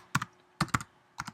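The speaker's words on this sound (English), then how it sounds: "I'm just going to type in" Typing on a computer keyboard while building a web page header: three quick pairs of close, crisp key clicks with short gaps between them.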